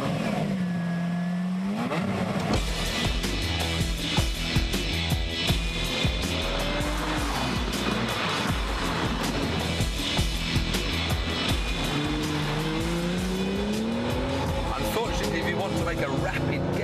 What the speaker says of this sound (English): any worries that the Lambo's got any quieter are silenced by a twist of the key.